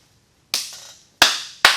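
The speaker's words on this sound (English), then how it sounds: "Terrible clap. this is the one clap." Three sharp hand claps, close and loud, the first followed by a brief murmur of low sound, the last two coming in quicker succession with short ringing decays in a quiet room.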